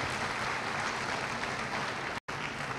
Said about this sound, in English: Let's give them a round of applause once again.